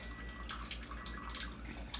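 Water trickling from a tap into a small container for calibrating an ORP meter, a steady close splashing stream lasting a couple of seconds.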